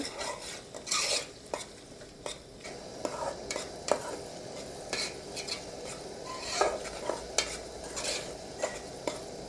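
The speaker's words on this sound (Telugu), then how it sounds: "ఉల్లిపాయలు అయితే మంచి రంగు మారేదాకా బాగా అండి" Onions frying in a pan while being stirred, the spoon scraping and clinking irregularly against the metal over a soft sizzle, close and without talk.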